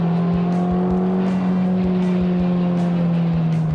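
Honda Civic Type R with 306 brake horsepower being driven hard around the Nürburgring, its engine holding a steady loud drone with shifting pitch, heard from inside the car without any talk.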